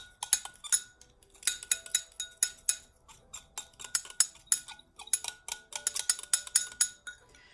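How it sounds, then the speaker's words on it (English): A metal palette knife stirs and scrapes oil paint in a jar, making quick, crisp clinks and taps in an irregular rhythm, close and fairly quiet, with no voices. "So I'm just stirring this up with my palette knife"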